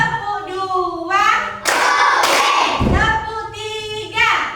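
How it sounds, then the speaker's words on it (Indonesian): Children in a classroom clap in a counted group routine: a few sharp, loud bursts of clapping together, with young voices chanting before and after. "Tepuk 2."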